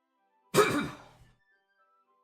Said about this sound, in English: I'm coughing. Coughing a lot.